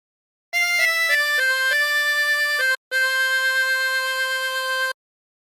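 A harmonica plays a slow melodic phrase from the hymn "There is a Redeemer", several reedy notes, the last one held long after a brief pause, clear and solo.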